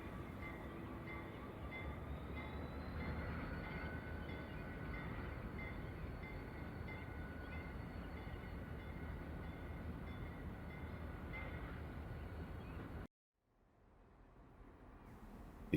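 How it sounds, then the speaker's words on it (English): Susquehanna railroad locomotives rolling by on a riverside line, a steady loud rumble with rail noise and a faint high squeal that continues for about thirteen seconds before cutting to near quiet. "As these Susquehanna units roll by"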